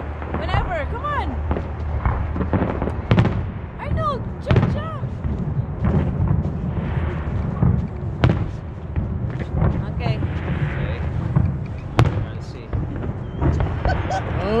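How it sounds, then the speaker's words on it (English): Sharp bangs and crackling pops of fireworks and firecrackers burst repeatedly on New Year's Eve at Walterdale Bridge, Edmonton, some loud and close, mixed with whistling streaks and people talking and exclaiming throughout. "Those are very sweet firecrackers"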